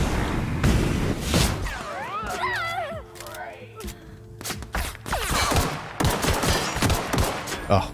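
Guns fire in The Outer Worlds, with dense bursts of shots and impacts over a game soundtrack with a melodic line, loud throughout, while a voice talks in the middle of the action.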